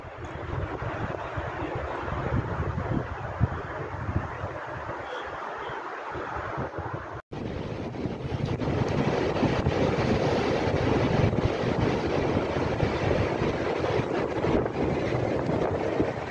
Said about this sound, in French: c'est le vent.